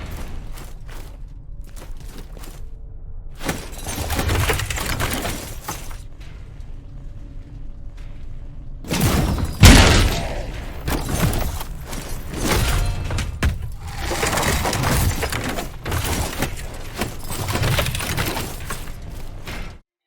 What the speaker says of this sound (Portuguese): Os efeitos sonoros das armas são um absurdo de tão reais e tão impactantes.